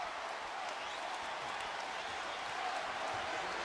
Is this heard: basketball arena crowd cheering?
yes